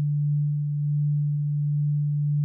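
Pigments 4 synth playing a steady sine wave tone through super unison, a single sustained low hum held at even loudness with no voices.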